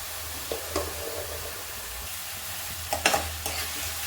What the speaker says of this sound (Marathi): कांदा आता आपण लाल होईस्तोवर व्यवस्थित परतून घ्यायचा आहे।